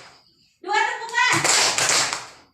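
Children in a classroom lesson clap in a short burst as part of a teacher-led counting game, following a brief spoken voice, close and clear.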